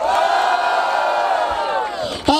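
A loud, dense crowd cheers and roars at a freestyle rap battle event in Barueri, one sustained wave of shouting and whooping that swells briefly near the end.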